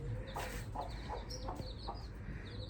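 Hen clucking close by on a farm, a series of short repeated clucks at a fairly even rhythm, fairly faint overall, with a few higher chirps mixed in.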